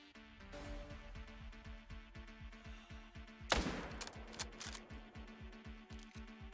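A single sharp rifle shot goes off while hunting in theHunter: Call of the Wild. It cracks loudly midway over a quiet ambient bed with a steady rhythmic ticking, then a short rattling tail trails after it.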